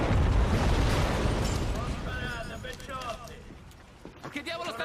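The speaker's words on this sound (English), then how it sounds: "some random explosion happens" A loud explosion booms in the Mafia 2 game, a heavy rumbling blast that decays slowly over several seconds, followed by talking.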